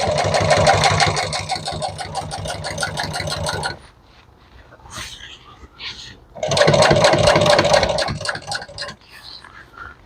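A sewing machine stitches auto upholstery set to stitch length 5, running in two steady loud rapid bursts of several seconds each with a quieter pause between, with faint handling noise.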